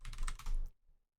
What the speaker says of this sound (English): I'm typing in the wrong thing